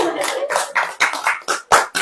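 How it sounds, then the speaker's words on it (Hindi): Bursts of hand clapping from a congregation at a Hindi sermon, coming in a steady run of short separated rounds, fairly close and loud, with no speech over them. "ताली बजाइए"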